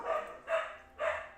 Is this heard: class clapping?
no